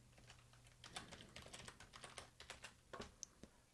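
A password is typed on a computer keyboard, with quick irregular key clicks in bursts, close and fairly quiet, over a faint low hum.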